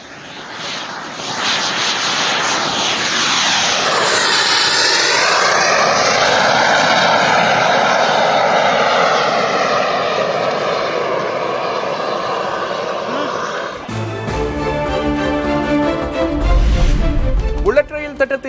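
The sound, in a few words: Divyastra MK3 aircraft flying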